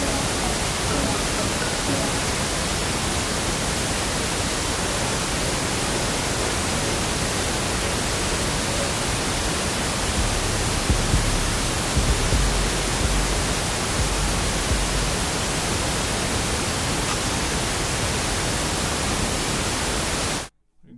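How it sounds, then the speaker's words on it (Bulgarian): A steady pink noise test signal used for setting mix levels hisses loudly and evenly as a broadband wash for about twenty seconds, then cuts off abruptly. "Сега пускаме Pink Noise и самите звуци трябва да се чуват малко над самия Pink Noise."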